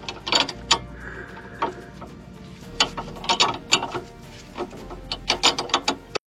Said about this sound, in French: Donc je prends une clé à œil et je fais comme ça.